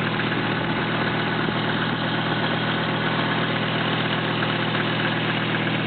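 A 1996 Volvo 850's 2.5-liter inline five-cylinder engine with about 300,000 miles idling steadily, a close, even mechanical hum and rumble with no voices.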